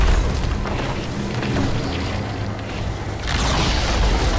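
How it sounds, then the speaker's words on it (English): A tower in Dota 2 is destroyed with a loud booming crash, a dense rumbling burst that swells and then breaks into a brighter crumbling tail near the end. "Radiant's bottom tower has fallen."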